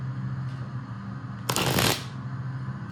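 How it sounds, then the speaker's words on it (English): A short burst of tarot cards being riffled and shuffled, a crisp half-second flutter over a quiet background hum. "that is enough shuffling"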